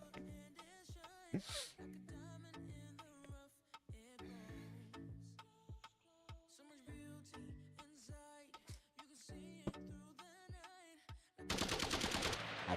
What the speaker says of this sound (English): Silent fire. Yeah, silent fire, but assault rifle bullets coming out of a pistol.